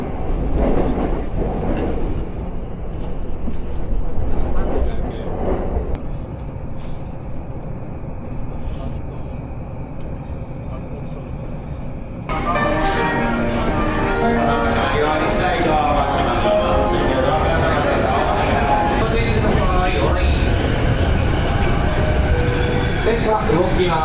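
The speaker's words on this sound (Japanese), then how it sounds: "千葉行きが到着しております。" A commuter train bound for Chiba pulls into a station platform in Japan, a rumbling rolling roar with squealing brakes that swells louder partway through, while platform announcements are spoken over it.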